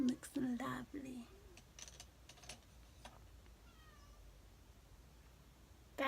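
A house cat gives a quiet, brief meow midway through, faint against a hushed room after a soft, breathy voice and a few light clicks at the start, with a louder sound cutting in at the very end.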